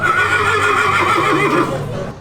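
A horse whinnies loud and close in the stables at the Golegã horse fair in Portugal, one long sustained neigh that fades at the end, with no talk over it.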